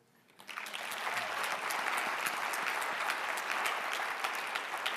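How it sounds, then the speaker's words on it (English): An audience in a lecture hall bursts into applause, a dense and steady clapping that swells quickly and holds evenly for several seconds. "Can I get a round of applause for KM leadership?"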